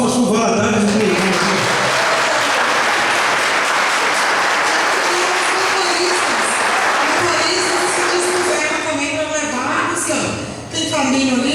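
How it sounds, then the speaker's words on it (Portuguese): Audience applause at a church community gathering in Ponte Nova, steady dense clapping filling the room for several seconds with voices mixed in, fading briefly near the end. "Valadares aí, palmas com Valadares no meio."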